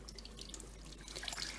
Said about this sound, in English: you're just squeezing that under the running water